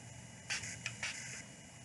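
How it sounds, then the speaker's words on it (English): Makeup setting spray misted from a pump bottle: three short, close hissing sprays in quick succession over a quiet room. "and then I spray."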